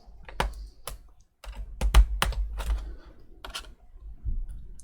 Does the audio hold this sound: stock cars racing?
no